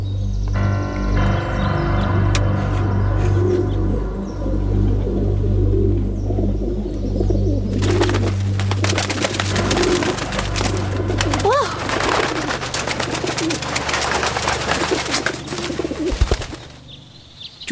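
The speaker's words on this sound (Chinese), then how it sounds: "到时间该放鸽子了。" Pigeons coo and flutter as they are released in a period drama scene about the Japanese-backed puppet regime in Manchuria, with steady cooing over a low hum that gives way to busier wing and rustling noise.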